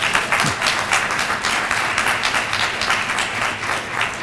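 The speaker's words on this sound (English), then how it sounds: "Deafening applause is likely." Applause from a young audience at an early career day event fills the room, dense and steady clapping holding at a loud level for several seconds without any talk over it.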